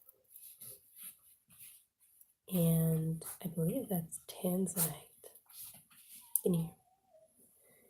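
A dog whimpers and whines in several high, wavering cries while a person talks nearby.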